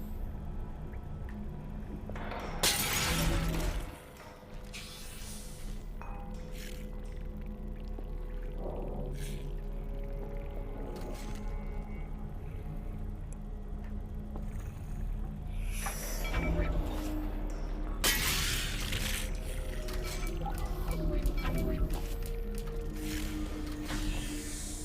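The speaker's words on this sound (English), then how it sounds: "this is an early video of the distillery with its original ambient soundscape" Original ambient soundscape of the distillery level in the video game Half-Life: Alyx: low droning hum and rumble with scattered watery pours, squishes and creature-like groans, plus two louder bursts early and late.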